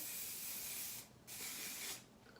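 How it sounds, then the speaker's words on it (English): Two long hissing bursts of hairspray from an aerosol can, close up, separated by a brief pause. "the hair, flip, spray it again, and then I'll pull it back around"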